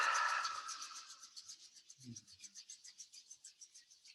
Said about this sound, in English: And then rubbing the palms together, continuing to breathe and feel.